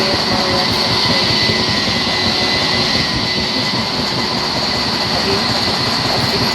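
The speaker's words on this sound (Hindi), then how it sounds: "तो हमारी डबल डेकर ट्रेन चल चुकी है।" A double decker passenger train runs steadily on its rails, giving a loud, continuous rumble with constant wheel and track noise throughout. No one speaks.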